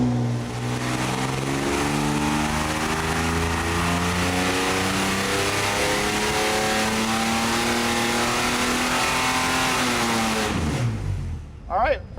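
A turbocharged Ford 300 4.9L inline-six runs on pump gas during a dyno pull, revving loud and close in a long steady climb of rising engine tone, then dropping off sharply near the end.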